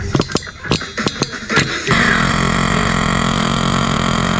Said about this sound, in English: Let's raise the throttle, trim a little bit.